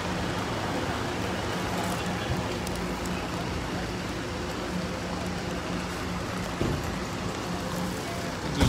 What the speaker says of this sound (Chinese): 现场是非常之大雨啊。